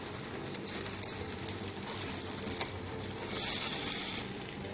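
Moringa (drumstick leaf) roti frying on a hot pan, a steady close sizzle that swells louder for a stretch near the end, no talk.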